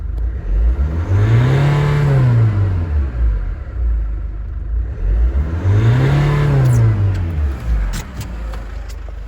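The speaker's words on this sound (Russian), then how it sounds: "Сейчас я ее маленько разгазую." A Mitsubishi 4D20 diesel engine with a smoking exhaust and injector trouble is revved twice while the car sits parked in snow, each rise and fall of the engine note loud and close, with no talk.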